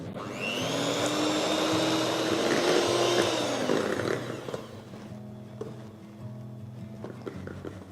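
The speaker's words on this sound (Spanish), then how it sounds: "Ahora vas a batir esto a velocidad baja o media hasta que alcance el punto de picos suaves." Electric hand mixer whipping cream with powdered sugar at low to medium speed, a loud steady motor whine that rises in pitch, then eases to a lower, rougher churn in the second half.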